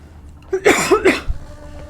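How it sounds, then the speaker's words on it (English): A couple of quick, harsh coughs up close, followed by a softer throat sound, with quiet background otherwise. "Sorry for coughing in your guys' ear."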